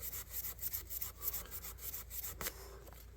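Fine 2000 grit sandpaper rubs over a tiny Bowie knife, a quiet, close scratchy rasp in short repeated strokes with a sharper scrape near the end.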